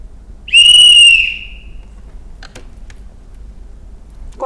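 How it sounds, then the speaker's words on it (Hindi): A whistle sounds once, a loud piercing tone lasting about half a second during an auditory training exercise for children, followed by quiet with a few faint clicks and ticks. "हमने सीटी की आवाज़ बार बार बताई,"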